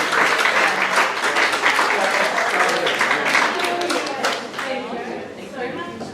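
Warm, sustained applause from a crowd at a ballroom dance awards presentation, tapering slightly toward the end as a voice begins to come through underneath.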